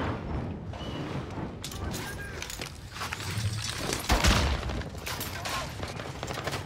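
Video game gunfire crackles in bursts under a busy mix of mechanical clatter and effects, fairly faint overall with a louder thump partway through.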